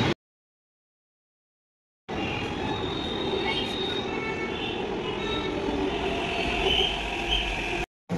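A metro train runs along its line in Hyderabad, with a loud continuous rumble and rail hum that starts abruptly after two seconds of silence and holds steady until cutting off near the end.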